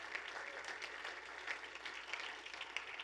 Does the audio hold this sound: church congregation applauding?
yes